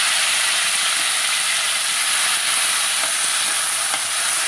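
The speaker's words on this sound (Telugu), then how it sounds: "ఆయిల్ పోసి టమాటాలు వేసేయాలి." Tomatoes fry in hot oil in a pan for a curry leaf chutney, giving off a dense, continuous sizzling hiss that stays loud and even, with no voices.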